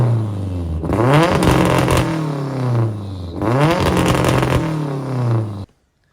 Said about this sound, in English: fix this exhaust today. It's really loud. V-band leaks like a sieve.